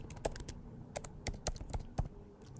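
Computer keyboard keys are typed in short irregular bursts while someone searches for a plugin in Figma. The clicks are close and crisp, with brief pauses between keystrokes and no talking.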